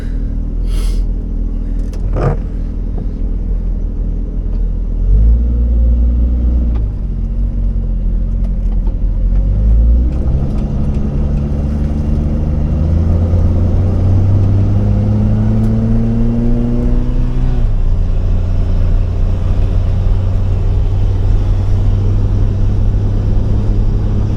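A Jeep's engine revs hard as it flings mud, a loud continuous rumble rising and falling in pitch through several surges, with no talking.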